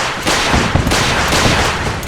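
Settlement defense turrets in Fallout 4 open up in rapid, continuous bursts, a loud, dense stream of automatic fire with no talking.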